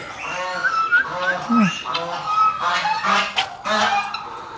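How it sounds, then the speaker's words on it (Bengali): Turkeys on a farm at Hathazari Krishi Farm give a series of loud, close, repeated honking calls in quick succession, with people talking among them. "ওগুলো হচ্ছে টার্কি।"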